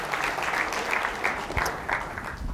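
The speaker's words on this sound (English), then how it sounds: "Let's give Tim Bound another round of applause for pulling this all together." An audience at a sales development talk claps steadily for a couple of seconds, a dense, moderately loud applause from a room full of people.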